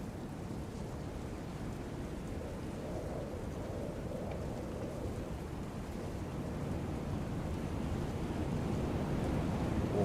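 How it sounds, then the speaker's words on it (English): Steady rain and rumbling thunderstorm noise from the DayZ video game on the Namalsk map, a continuous broadband wash that grows slightly louder over the stretch, with no talking. "Now we got a storm coming in."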